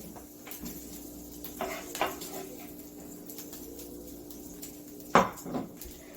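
Chorizo pushed around a frying pan with a metal utensil while making breakfast potatoes: faint sizzling under a few sharp scraping clanks, one louder knock near the end, with no talk.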